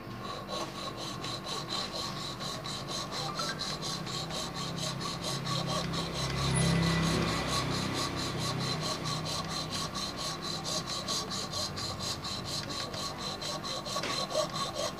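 A steady back-and-forth rasping of a hacksaw cutting through bone for a guitar nut and saddle, with fast, regular strokes continuing throughout.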